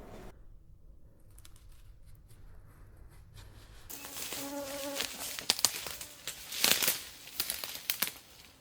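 Bees buzz quietly at first, then grow louder and busier around a bee trap being lowered in a forest, mixed with crinkling and rustling handling noises close by.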